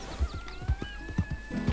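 A horse in the video game Red Dead Redemption whinnies with a rising tonal call over repeated low thudding hoofbeats, all close and clear.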